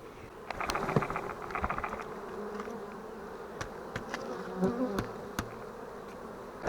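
Honeybees buzz steadily while a hive frame is shaken out during the joining of queenless colonies with swarms, a close, continuous drone with scattered sharp taps and knocks from the frame.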